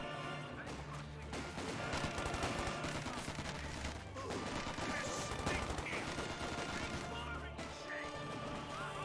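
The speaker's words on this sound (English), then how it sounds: "I hear the Vickers hits the Grenadiers and force them back" Vickers machine gun fire in Company of Heroes 2, dense rattling bursts and crashing impacts amid a loud, busy battle mix, with a voice talking over the action.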